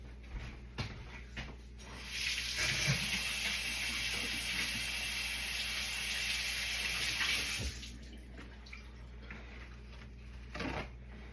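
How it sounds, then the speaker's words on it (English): Tap water runs steadily into a kitchen sink for about six seconds as hands are washed, a broad hiss with no talking, bracketed by quieter handling clatter before and after. "we're going to wash our hands real quick because that was gross"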